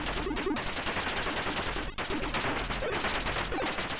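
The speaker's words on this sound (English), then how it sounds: "So now we shoot him." Rapid gunfire in the Atari ST game Resolution 101 as an enemy is shot, a dense run of loud, steady electronic shots that carries on for several seconds with no pause.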